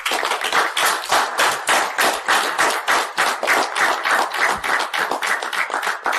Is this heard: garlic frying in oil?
no